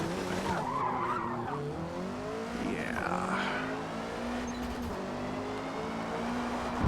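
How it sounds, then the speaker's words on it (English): A race car at Laguna Seca skids and wrecks as it gets loose, tires squealing loudly in rising and falling sweeps over a steady engine drone, ending in a sudden jolt. "Neutral Taster gets a little loose and we wreck ourselves"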